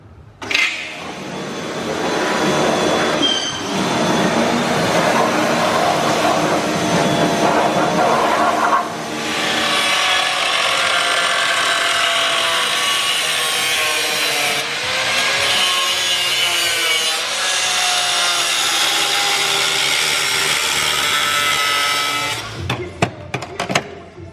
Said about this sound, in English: let's cut some chassis rails up